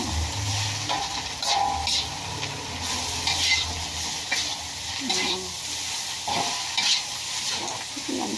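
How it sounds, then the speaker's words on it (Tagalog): Sliced bitter melon (ampalaya) sizzles steadily in a hot frying pan while a utensil stirs it, giving repeated scraping strokes over a constant close hiss. "Saka mo ngayon hahaluin ng bonggang-bongga."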